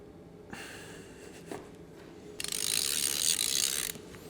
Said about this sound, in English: So I got a breaker bar and a thin socket and extension, because this hole here is kind of small.